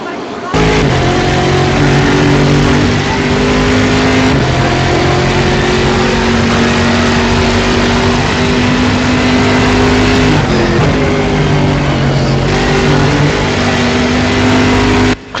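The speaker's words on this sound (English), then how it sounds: "Last minute repairs on the car. Yep, looks like Ovi's going out for a lap now" Racing car engine on an onboard feed drones loudly and steadily, with the pitch rising and dropping through gear changes, under a continuous wash of road and wind noise.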